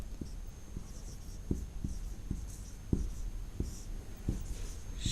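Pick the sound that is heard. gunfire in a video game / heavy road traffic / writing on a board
writing on a board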